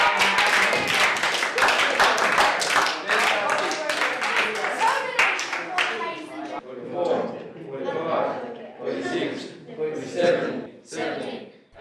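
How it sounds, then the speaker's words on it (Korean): A group of boys clapping in encouragement for a classmate doing push-ups in a class, with rapid claps early on, then speech dominating as the clapping fades. "Yeah, give it a clap."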